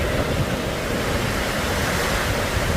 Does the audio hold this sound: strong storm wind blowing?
yes